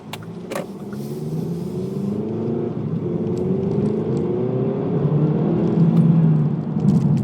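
A 2020 Kia Stinger GT-Line with a 2.0L turbo engine and AWD accelerates from inside the cabin, its engine drone rising steadily in pitch through a gear, with a constant low rumble of road noise beneath.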